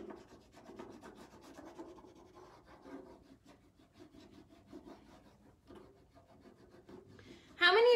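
Rubbing the edges of a transfer down onto a metal surface gives a soft, steady scraping and rubbing that runs continuously at close range, ending in a brief louder burst of contact noise.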